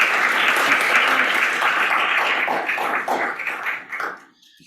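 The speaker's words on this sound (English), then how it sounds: "let's give our speakers another round of applause" Dense, sustained applause from an audience at an evening solar town hall in a city hall chamber, loud and steady for about four seconds before tapering off to silence.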